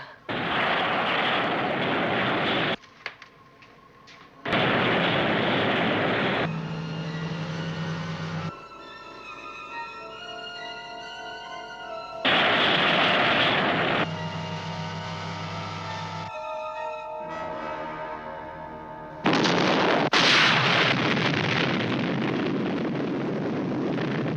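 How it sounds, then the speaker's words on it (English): A sci-fi missile launch from planet Beta in a television space drama: alternating blocks of roaring, explosive rumble and tonal electronic whines, each burst loud and sustained for a few seconds, with sharp cuts between them. "Missile launch from planet Beta."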